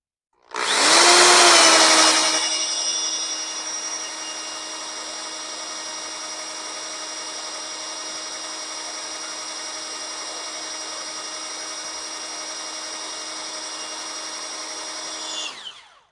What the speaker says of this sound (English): As you can see with that drill, we'll put it to almost 40 pounds of oil pressure.